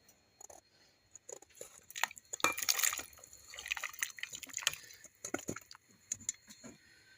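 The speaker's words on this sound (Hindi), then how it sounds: "अब 5 मिनट पकाने के बाद जो हम सब्जी रखे हैं वो सब्जी इसमें डाल देंगे।" Chopped vegetables tipped into a pot of Kathiawadi khichdi, rice and dal already cooking, giving a soft wet scatter of splashes, clinks and drips that swells in the middle and trails off into quieter taps.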